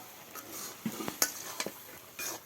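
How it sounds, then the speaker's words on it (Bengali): Rice is stirred in a cooking pot, with a series of scrapes and metallic clinks from the spoon over a faint background sizzle. "ভাতটা নেড়ে ছেড়ে দিচ্ছে"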